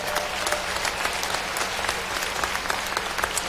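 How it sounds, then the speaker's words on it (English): An audience at a school district special recognition night applauds Arizona State Science and Engineering Fair winners, a steady clatter of many hands clapping at moderate volume throughout, without talk. "a big round of applause for all the Arizona State Science and Engineering Fair winners"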